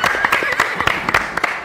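A group of people clapping for a contestant, with scattered uneven claps and a voice murmuring over them.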